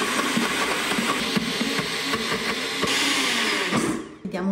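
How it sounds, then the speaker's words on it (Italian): A kitchen blender purees cooked lentils into batter for a gluten-free, flourless focaccia, giving a loud, steady motorized whir with a slight rise in pitch near the end before it winds down and stops. "E ora frullo il tutto."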